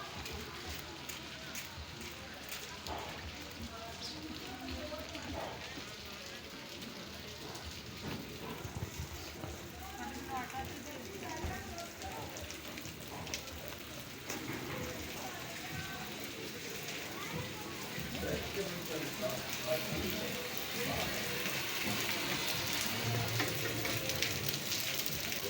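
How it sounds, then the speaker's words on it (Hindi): Heavy monsoon rain drums steadily on surfaces outdoors, a constant pattering hiss that grows louder toward the end, with a voice talking at times over the downpour. "इतनी तेज़ बारिश, बहुत तेज़ बारिश।"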